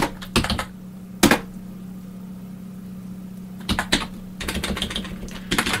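Fingers typing on a computer keyboard during a computer demonstration, the key clicks coming in uneven bursts and pauses over a steady low hum.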